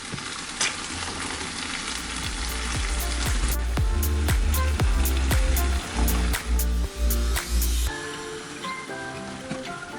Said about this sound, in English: and then continue to let them cook in this pan for another 10 minutes.